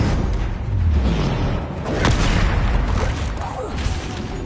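A Bombarda explosion spell goes off in Hogwarts Legacy during a troll fight: heavy booms and thuds mixed with whooshing spell effects, loud and close over a rumbling game soundscape.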